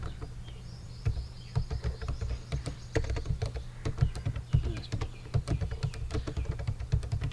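Fingers typing C++ code on a computer keyboard, irregular bursts of quick clicky keystrokes with short pauses, close and fairly quiet, with faint bird chirps in the background.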